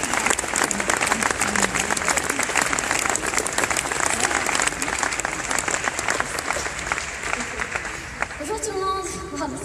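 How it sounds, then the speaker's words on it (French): A large audience at a forum event in Fribourg breaks into thick, continuous applause that holds for several seconds, then thins as a voice and a brief tonal sound emerge near the end. "vous pouvez tous, sous un tonnerre d'applaudissements,"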